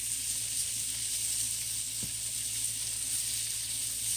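Porterhouse steaks sizzle steadily in a skillet with a constant hiss, close and even throughout, with one soft knock midway.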